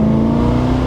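A 500hp V8-powered Mazda Miata ND on a mountain road gives a brief, steady, close-up engine drone, loud and even throughout.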